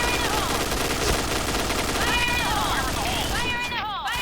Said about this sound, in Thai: เรายิงแค่สองแม็กพอละ